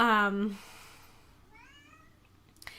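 A cat gives a loud, close meow, followed a second later by a fainter, higher meow in a quiet room.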